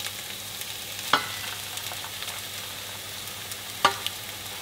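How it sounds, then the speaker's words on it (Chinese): Bean sauce and minced onion fry in a wok with a steady low sizzle, while a spatula stirs and lands two distinct sharp clanks against the metal a few seconds apart. "不断翻炒，让酱和洋葱末充分混合。"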